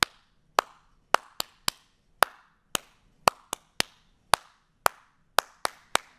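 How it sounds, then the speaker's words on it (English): Hands clapping during a children's storytime song: a series of sharp, separate claps in an uneven rhythm, fairly close and moderately loud, with no voices over them. "Now we have five claps."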